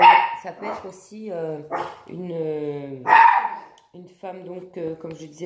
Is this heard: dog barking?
yes